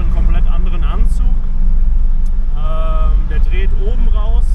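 A 1991 Corvette's engine pulls hard at high revs as a heavy, continuous low rumble fills the cabin, with voices talking over it throughout.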